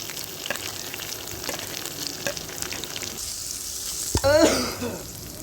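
Garlic added to a pan while cooking a cabbage dish sizzles steadily, with scattered clinks and stirring, then a sharp splash and brief louder fry burst near the end.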